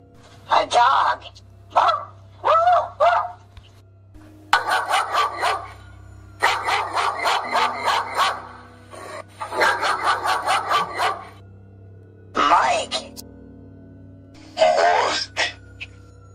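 A voice imitates a dog barking in quick bursts, short groups of two to five yaps separated by pauses, close and fairly loud over a steady low background hum.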